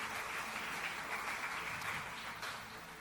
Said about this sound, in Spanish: Dele palmas fuertes a Jesús.